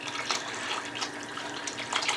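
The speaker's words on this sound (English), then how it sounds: "I got 4 cups of water here. I'm gonna pour this in" Water being poured into a pot of red beans gives a continuous splashing, rushing pour that lasts a couple of seconds and sounds fairly close.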